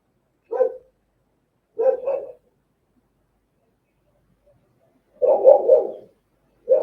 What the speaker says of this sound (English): Sorry, my dogs are barking at something.